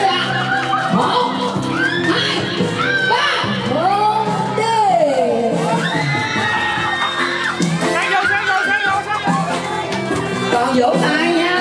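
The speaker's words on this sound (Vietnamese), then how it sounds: "Một tràng vỗ tay thật lớn nha" Wedding guests cheer, whoop and shout loudly after the couple's kiss at a Vietnamese wedding ceremony, a dense, continuous crowd roar with music and voices mixed through it.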